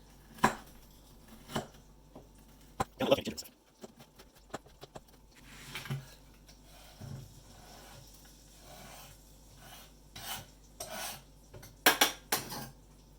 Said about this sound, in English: I'm going to cut up some ginger, some candied ginger